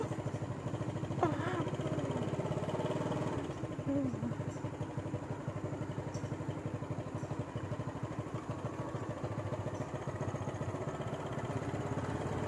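A four-wheeled quad bike engine runs steadily while being ridden uphill, a continuous mid-pitched motor drone with faint clatter, close and loud throughout, with no talk over it.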